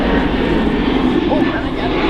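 An Airbus A320neo climbing away at Manchester Airport gives a steady, broad engine roar at close range, with people talking over it.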